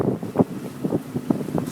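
Gusty wind buffets the microphone on a boat, with low rumbling rushes rising and falling in quick succession, close and fairly loud.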